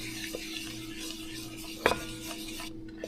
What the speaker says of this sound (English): I'm gonna get to stirring this until it becomes a slurry